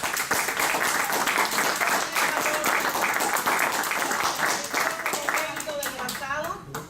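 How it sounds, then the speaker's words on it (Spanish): Church congregation at a ministry gathering breaks into loud, continuous applause that stays dense and even throughout, thinning slightly near the end as a voice begins to speak. "Vamos a darle un aplauso, por favor."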